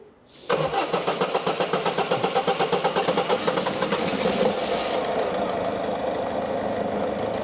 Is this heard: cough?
no